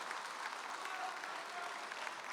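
Arena crowd applause for MMA fighter Zhuman Zhumabekov at a Naiza Fighting Championship event, a steady, fairly distant wash of clapping with crowd noise, constant and even throughout.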